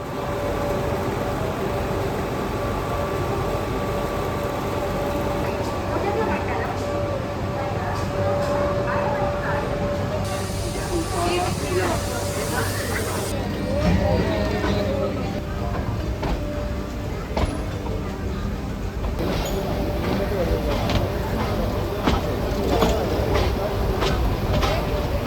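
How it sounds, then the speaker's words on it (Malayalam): A Nilgiri Mountain Railway train pulls slowly out of Mettupalayam station toward Ooty. It makes a continuous low rumble with some rattling, and a voice is heard over it. "അങ്ങനെ മേട്ടുപ്പാളയം സ്റ്റേഷനോട് വിട പറഞ്ഞ് ഊട്ടി ലക്ഷ്യമാക്കി ട്രെയിൻ മെല്ലെ മെല്ലെ പോയിക്കൊണ്ടിരിക്കുക."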